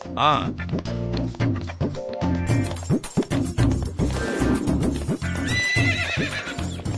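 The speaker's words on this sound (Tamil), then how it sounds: "குதிரை வண்டியில அங்க நிறுத்தக்கூடாது" A horse pulling a cart whinnies loudly and close by over steady clip-clop hoofbeats, with voices and other sounds mixed in throughout.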